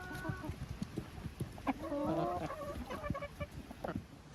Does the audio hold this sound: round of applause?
no